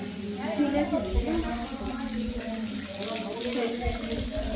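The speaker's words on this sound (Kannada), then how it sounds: "ಜಲಪಾತ ಸಣ್ಣಾಗಿ ಹರಿಯಾಕಂದೈತಿ" Steady rushing water flows continuously from the small Huligemma waterfall, a constant splashing wash with a voice faintly mixed underneath.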